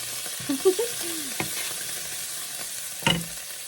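Onions fry in a pan with a steady, close sizzle that runs throughout, broken by a few light stirring scrapes and clicks; no one speaks.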